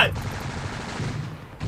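Gunfire in the military video game Virtual Battlespace 2, a continuous dense burst of weapon fire with a sharp onset, loud and close throughout.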